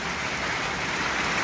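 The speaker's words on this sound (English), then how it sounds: "Oh, y'all, it's raining." Rain falling outdoors during a drought, a steady, even hiss of drops on surfaces heard alone at moderate level for a short moment.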